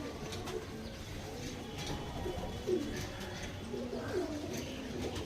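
Female pigeons coo softly in low, repeated throaty calls against a quiet background, fairly faint and close by.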